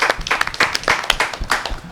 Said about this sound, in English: Let's clap it up for Dobes.